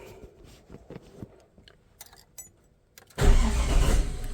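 Holden LX Torana engine starting with a new ignition key and barrel: soft clicks and fumbling, then a cranking catch that leaps into a loud, steady idle, close by.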